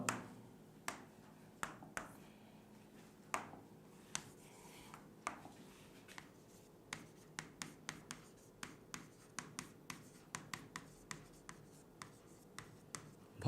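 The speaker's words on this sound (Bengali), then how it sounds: "তো প্রথমে আমি ভর ক্রিয়ার সূত্রটা লিখছি।" Pen or marker strokes scratch and tap across a surface while a chemistry formula is written out, a string of short, close, quiet strokes with brief pauses between them and no talking.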